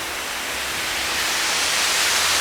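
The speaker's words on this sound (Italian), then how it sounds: "sono praticamente sotto la cascata del Catafurco" The Catafurco waterfall in the Nebrodi mountains roars from directly beneath the falls. A dense, broad wash of falling water holds steady and loud and grows slightly stronger, with no voices.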